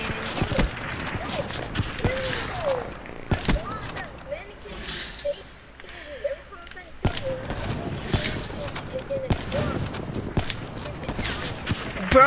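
Rapid bursts of gunfire fill a quickscope battle in Black Ops 3, sharp shots cracking in clusters with brief lulls, under excited talking.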